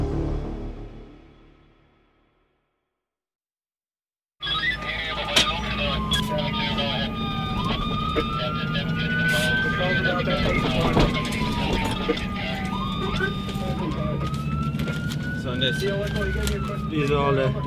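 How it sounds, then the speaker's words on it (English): Sirens from a convoy of five fire trucks and an ambulance wail loudly and continuously over heavy traffic and street noise, following a few seconds of near silence. "5 fire trucks and 1 ambulance."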